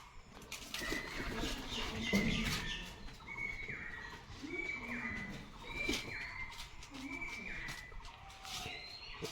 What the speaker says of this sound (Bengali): তো এখানে পায়রাটা চলে আসছে